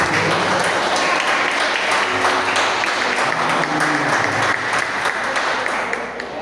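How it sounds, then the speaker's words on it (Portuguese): A church congregation claps at a Sunday celebration service, a loud, dense, sustained round of applause with faint background tones running beneath. "Você pode aplaudir mais uma vez para o Senhor."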